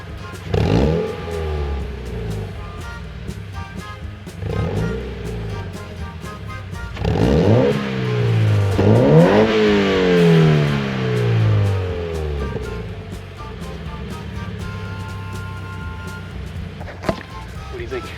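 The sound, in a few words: Toyota 86 exhaust revving through muffler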